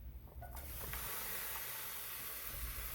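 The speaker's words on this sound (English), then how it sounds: "right now I'm going to saute all the spices first. I'm going to put some oil on it." Steady hiss and sizzle of spices sauteing in hot oil for a catfish stew with kaffir lime leaves, constant and close throughout after a brief clatter at the start.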